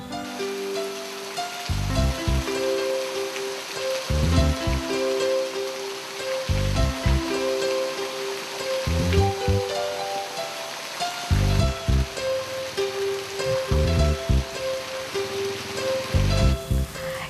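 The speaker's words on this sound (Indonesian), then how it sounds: "kalau di sekitar rumahmu ada hujan deras" Heavy rain pouring around a house during flood conditions, a dense steady hiss that fills the whole clip, with a repeating low tonal music phrase playing underneath.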